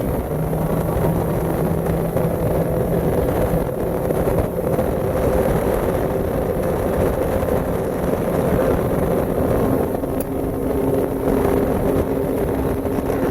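A 2008 Wellcraft center console boat running at cruising speed around 30 mph and 4,000 rpm, with a loud steady outboard engine drone blended with rushing wind and water noise.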